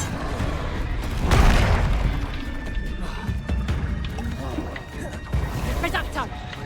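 Confringo explosion spell going off in a Harry Potter video game, a loud booming blast in a dense, busy mix of game noise and effects, with voices talking over it.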